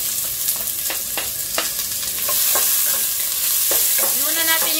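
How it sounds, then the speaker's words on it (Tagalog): Chopped onions sauté in a hot pan as the first step of Filipino adobo with string beans. A close, steady sizzle runs throughout, broken by repeated scraping strokes of a stirring utensil. "Yan, gisa natin ang sibuyas."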